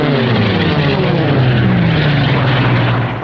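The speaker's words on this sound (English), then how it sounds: "the roar of the fastest planes" A fast racing plane roars past at the Reno Air Races, loud and close, its propeller engine drone sweeping downward in pitch as it passes, then easing slightly at the end.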